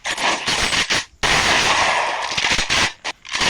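Rapid bursts of automatic gunfire from a video game firefight crackle in short clustered volleys, loud and close, with brief gaps between strings of shots.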